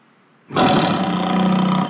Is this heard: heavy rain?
no